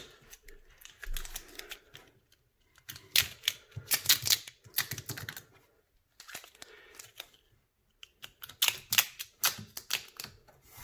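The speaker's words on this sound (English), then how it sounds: "So I decided to take a little piece of tape," Tape is pulled off a roll in ripping bursts and pressed down on the corners of a stand for a Fluval 32.5 gallon aquarium, with close, crackly stretches separated by short silences.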